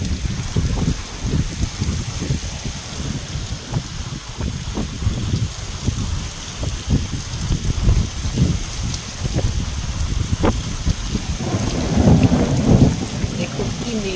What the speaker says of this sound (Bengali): দেখুন কি মেঘের গর্জন আর সাথে বিদ্যুতের চমকানো।